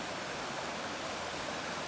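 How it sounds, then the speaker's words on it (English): A babbling brook beside an Appalachian Trail path in Connecticut gives a steady, broad rush of running water, close and fairly loud, with no talking. "But you'll get to experience this brook."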